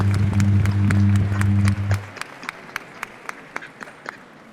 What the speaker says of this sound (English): please join me in giving Team 21 a well-deserved round of applause